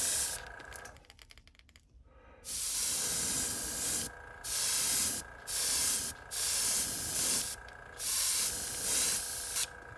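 An airbrush sprays paint onto a custom Aqua Tiger S-Crank fishing lure in short, repeated bursts of close, steady hiss, with a brief mechanical rattle before the spraying starts.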